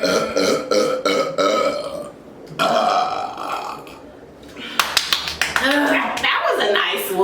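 Loud, drawn-out burps from someone who has just chugged Coke, heard close up alongside talk, laughter and a few sharp claps.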